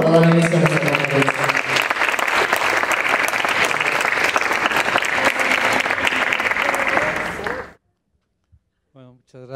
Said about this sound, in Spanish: Recibamos de nueva cuenta con un fuerte aplauso